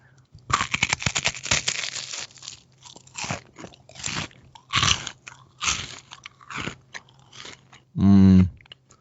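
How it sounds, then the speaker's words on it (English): Close-miked crunchy bites and chewing of a chocolate wafer crisp, a series of crisp crackling crunches in irregular bursts, ending with a brief loud vocal sound. "I need you to get your mouth closer to the microphone and chew slowly."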